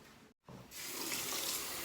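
Bathroom water tap running steadily as cool water fills the sink for face washing, a continuous close hiss after a brief handling click and a short pause.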